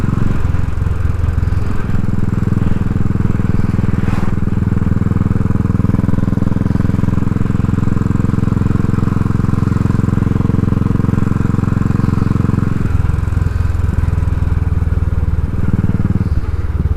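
A motorcycle fitted with a 45 mm pod air filter and a 12 mm crankcase breather drones steadily while being ridden, its engine note loud and continuous and dipping briefly near the end.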